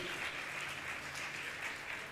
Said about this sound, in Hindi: ताली बजा के उनका सम्मान करें